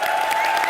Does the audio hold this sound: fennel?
no